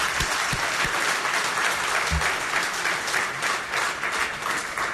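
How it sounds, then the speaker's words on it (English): Steady, dense applause from a crowd, sustained and fairly loud throughout, with scattered claps standing out and faint voices mixed in. "can you give them a round of applause?"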